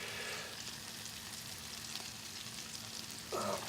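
Kashmiri garlic prawns sizzle steadily in hot oil in a pan, a continuous close frying hiss with a brief louder burst near the end, no voices.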